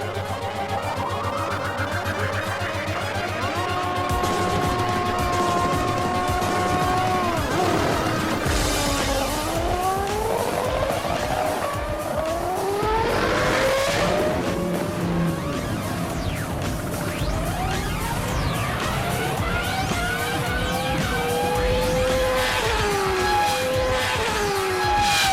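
A car, a motorbike and a boat race a quarter mile on a circuit. Loud engines rev continuously with rising and falling pitch sweeps, and whooshing passes and tire squeal can be heard throughout, with no talking.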